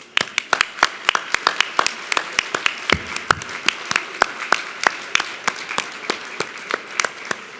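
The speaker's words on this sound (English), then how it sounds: "would you please stand for applause?" A planning committee is applauded at a National Philanthropy Day gala, heard as steady, fairly sparse claps from a modest audience that continue for several seconds with no one speaking.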